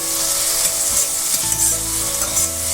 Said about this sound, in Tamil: தக்காளி போட்டு நல்லா வணக்கி விட்டுருவோம்.